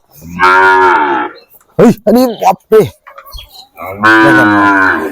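Sahiwal bull calves moo loudly and close by, with two long drawn-out calls at the start and end, and a man's brief exclamation in between.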